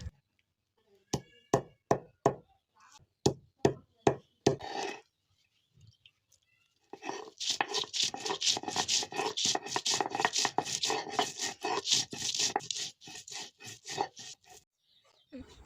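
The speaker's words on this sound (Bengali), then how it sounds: "সাদা এলাচ দিয়ে পিষে নিচ্ছি।" Black and white cardamom pods crushed on a grinding stone into spice paste: a run of sharp, evenly spaced knocks, then a dense stretch of rapid scraping and rubbing strokes, close and fairly loud with no talk.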